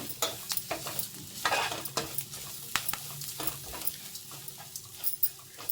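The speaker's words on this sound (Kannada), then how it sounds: "ಈ ರೀತಿ ಎಲ್ಲ ಚೆನ್ನಾಗಿ ಮಿಕ್ಸ್ ಮಾಡ್ಕೊಳ್ಳೋಣ." Spatula scraping and clattering through bitter gourd gojju in a pan, irregular quick strokes and light taps over a faint sizzle, close and moderately loud, no talking.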